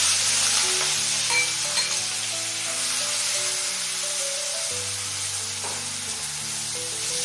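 Finely chopped onions sautéing in oil over medium heat, a steady close hiss of frying throughout with a low background hum and only faint stirring, no talking.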